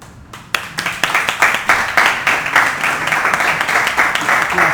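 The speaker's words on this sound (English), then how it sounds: "Let's all clap to him as well." Audience applause at a community civic engagement event, a dense, steady clapping from a room full of people that starts abruptly and continues loudly and evenly throughout.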